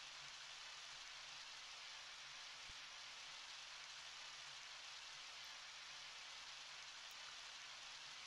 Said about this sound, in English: I don't think you're getting any protection from the rain